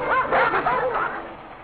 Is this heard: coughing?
no